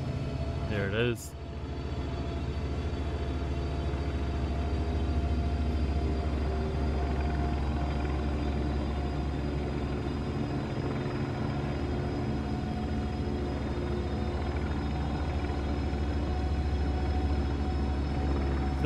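A helicopter in the Train Sim World 4 game on the Antelope Valley Line gives a steady droning rotor hum that holds at an even level throughout, with a brief sharp noise near the start.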